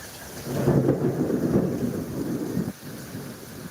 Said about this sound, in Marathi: बाहेर विजांचा कडकडाट मोठ्या प्रमाणात होत आहे